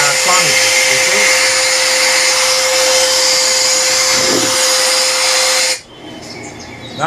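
A grinder fitted with coarse 80-grit sandpaper shapes a harpoon tip into a cone, making a loud, steady high-pitched whine with an abrasive hiss that runs continuously for about six seconds and then stops abruptly.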